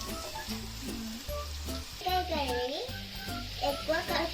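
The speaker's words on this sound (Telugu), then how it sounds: "ఇప్పుడు మనం కట్ చేసుకున్న బెండకాయలు దాంట్లో వేసుకోవాలి" Cut okra (bhindi) going into a hot pan and frying for a home-style curry, giving a steady sizzle with stirring under clattering and voices, including a child's, throughout.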